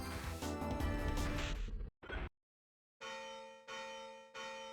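A bell rings in a video game: loud game music cuts off abruptly, then after a pause come three clear, resonant bell strikes, each ringing and decaying before the next.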